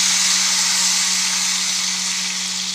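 Ghevar batter frying in hot oil, a loud steady hiss of bubbling oil held evenly throughout with a low steady hum underneath, close and without talk.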